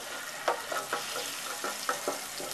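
Ginger-garlic paste and roasted cumin fry in a little oil with onions, making a soft, close sizzle. Scrape-and-stir strokes cut through it at an uneven rhythm, and no one speaks.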